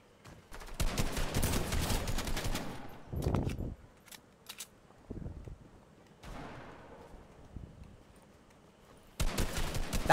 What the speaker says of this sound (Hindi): कोई धार धार फायरिंग कर रहा है